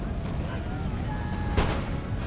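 Cannon fire in the video game Empire: Total War, one short, loud boom over a steady roar of battle ambience, with a voice faintly present.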